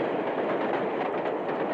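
A steam locomotive from the Civil War era runs hard along the rails, a loud, steady rumble with a rhythmic clickety-clack of the cars, heard close with no voices.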